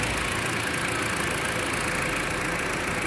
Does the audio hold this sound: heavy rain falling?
no